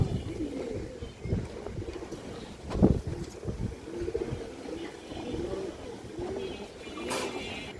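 Pigeons cooing among a loft of fancy breeds, low soft throaty coos repeating irregularly, with one sharper knock midway and a brief hiss near the end, fairly close and quiet with no talk.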